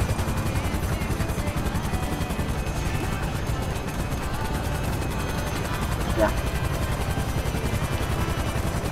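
Steady whirring rotor drone of a damaged helicopter in the video game GTA 5, continuous throughout with faint rattling gunfire and a brief click mixed in.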